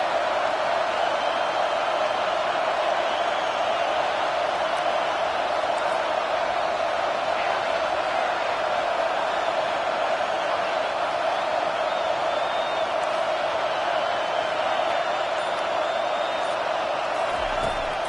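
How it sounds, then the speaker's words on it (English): Loud, constant video game stadium crowd roar at a college football game fills the whole stretch, a dense wash of noise with faint scattered whoops and shouts. "This crowd bringing the energy and noise early."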